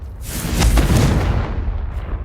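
A Confringo fire spell blasting in Hogwarts Legacy, a single loud booming explosion that swells quickly, rumbles heavily in the low end, then fades out over about a second with no voices.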